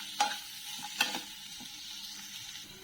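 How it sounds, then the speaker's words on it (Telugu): A spatula stirs bitter gourd fry with turmeric in a pan, two sharp scraping clatters over a soft, steady sizzle, fairly quiet and close. "ఇప్పుడు ఇందులో నేను పసుపు వేస్తున్నాను. ఒక 1/2 టీ స్పూన్ పసుపు. దీన్నంతా కలుపుకుంటున్నాను."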